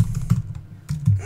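Several quick keystrokes tapped on a computer keyboard while entering a Bower install command, two short clusters of close clicky taps separated by a brief pause.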